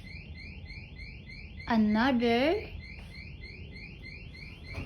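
A door alarm beeps left open, a repeating pattern of quick electronic chirps running steadily through the clip, with a voice briefly talking over it near the middle.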